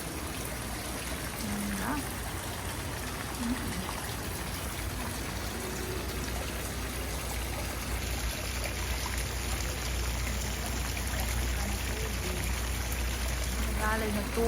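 Running water in a conservatory garden at the Muttart Conservatory pyramids in Edmonton makes a steady, even trickle and stream that continues throughout, with a voice briefly speaking over it.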